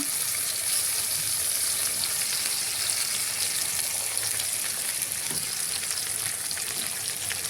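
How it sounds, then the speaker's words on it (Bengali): Chopped onion frying in well-heated oil for a home chicken dish, a steady dense sizzle with broad hiss, close and fairly loud, continuous throughout with no talking. "তো প্রথমে দিয়ে দিচ্ছি পেঁয়াজ কুচি। তেলটা ভালোই চলে গেছে, দেখো।"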